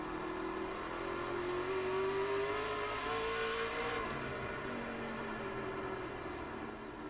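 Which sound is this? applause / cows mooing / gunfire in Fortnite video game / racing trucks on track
racing trucks on track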